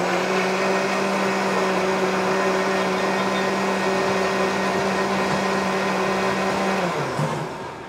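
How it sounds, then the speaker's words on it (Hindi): A kitchen mixer blends a strawberry milkshake of cream and fruit, its motor whirring with a loud, steady, high-pitched drone for several seconds before winding down at the end. "अच्छा अभी इसको बंद करके अपने मिक्सर में मिक्स करेंगे"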